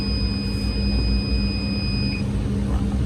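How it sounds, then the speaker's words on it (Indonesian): An ammonia gas alarm buzzer for a livestock barn sounds as a steady, piercing electronic tone for about two seconds, then cuts off abruptly, leaving a low background hum. "Jadi ketika buzzer hidup, di sini saya bisa mematikannya lewat aplikasi."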